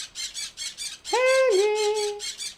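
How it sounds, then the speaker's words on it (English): A bird in the video game Stardew Valley gives a short drawn-out squawk that rises and bends, set against a looping pulsing game tune, clear and close. "Haley, the bird's making a noise."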